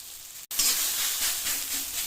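Sliced bottle gourd fries uncovered in a pan on a gas stove, giving a steady, close sizzling hiss after a brief cut near the start, with no talking over it.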